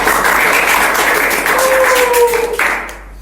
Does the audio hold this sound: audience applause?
yes